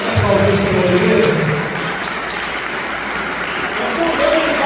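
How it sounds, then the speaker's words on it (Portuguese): A church congregation claps loudly in sustained applause that begins strong, then settles into a dense, even wash of clapping. "Vamos aplaudir a Jesus."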